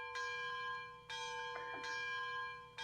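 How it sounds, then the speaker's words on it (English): A locomotive bell in a railroad video game rings out three clear, evenly spaced strikes, each bright tone lingering and fading before the next, with no talk. "I love the sound of a bell in this game."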